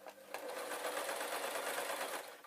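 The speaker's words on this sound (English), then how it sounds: "if I just run over it with the sewing machine, it'll just fall straight out" Domestic sewing machine stitching fabric ghost bunting with embroidery thread, a steady whirring run that starts after a brief pause and continues evenly to the end, close and alone.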